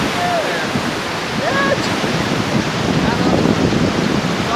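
Strong mountain wind roars steadily across a swaying suspension bridge on a Himalayan trekking route near Tilicho Lake, a loud continuous buffeting rush with brief faint whistles and a voice speaking beneath it.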